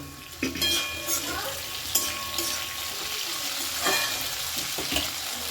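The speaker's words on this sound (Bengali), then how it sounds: "আমি এবার ঢাকাটা খুলে একটু নাড়াচাড়া করে নেব" Vegetables for Bengali shukto sizzle in a pan while being stirred, with a steady frying hiss, scraping utensil strokes and occasional clinks, close and moderately loud.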